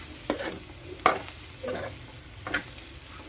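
Curry with coriander and masala is stirred in a pan on the stove, with about four distinct scraping strokes over a faint, steady sizzle.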